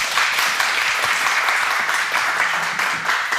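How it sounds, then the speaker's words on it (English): Audience applause welcoming a speaker at a tech talk, an even, dense round of clapping from a seated crowd lasting throughout. "Let's give a round of applause for Peter."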